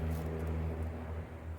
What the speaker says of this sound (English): Loud trucks going by again.